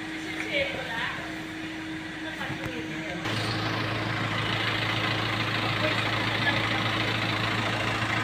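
Van engine starting partway through and settling into a steady low idle hum, with a faint background tone before it and voices talking quietly throughout.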